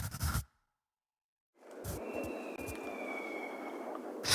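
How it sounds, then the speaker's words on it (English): Scary horror noise effects in an electronic music track: a brief dark burst, a silent gap, then a sustained eerie droning wash with a thin high whine, punctuated by a few low thuds, loud and alone without voices. "Scary horror noises."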